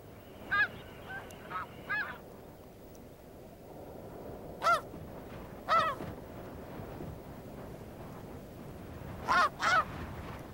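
Migrating geese, adults flying with their young, give loud nasal honks in scattered bursts, some paired, over a steady outdoor wind-like rush, with no voices.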